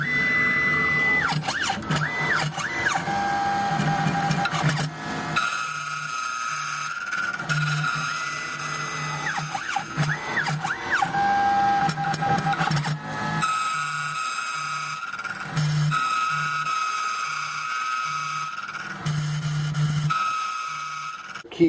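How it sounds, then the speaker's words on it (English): A key cutting machine shapes a blank for a 2007 Suzuki, a continuous buzzing, grinding whine with repeated rising and falling passes as the cutter travels along the key, fairly close and steady throughout. "We're going to go ahead and commence to cutting."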